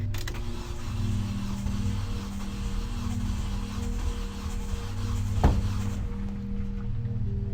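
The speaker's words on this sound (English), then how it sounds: "pretty sure that's the sound of valves being bent out of shape" An old car engine with bent valves runs with a steady rough idle, loud and close, with a sharp clunk near the end before the noise cuts back.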